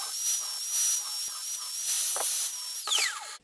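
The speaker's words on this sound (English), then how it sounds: "As you can see, I also swiftly blasted this plate to make it easier to weld on." Abrasive blasting of a 120 by 120 millimetre steel plate for a rocket stove lid: a steady, close, loud hiss with a thin whistling tone that drops in pitch as it cuts off.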